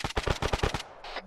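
Arma 3 gunfire: six or seven sharp shots in a quick, evenly spaced burst, loud and close, followed by a brief pause and one fainter, more distant report.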